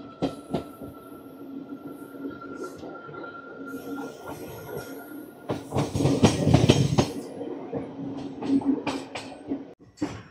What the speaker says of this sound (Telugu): స్టార్ట్ అయిపోయింది మా ట్రైన్.